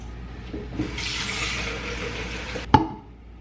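Water pours into a vase holding flowers and baby's breath, a steady splashing stream for a couple of seconds, then a single close knock and a fading drip, with no voices.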